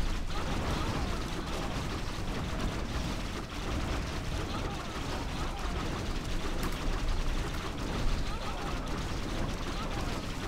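Cannon tower firing in Warcraft 3 Reforged, a dense, constant rattle of rapid shots and mechanical clatter filling the mix, loud and continuous, with a voice talking over it.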